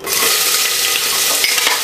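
A loud, steady sizzle of onions frying in hot oil with cinnamon, cloves and fennel, continuous and close, with faint stirring scrapes.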